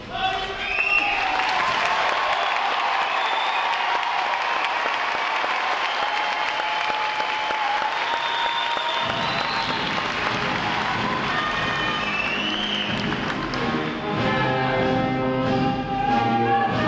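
Audience applause at a U.S. Navy recruit training graduation ceremony, a large crowd clapping steadily and loudly throughout, joined partway by cheers and voices over the continuous wash of clapping.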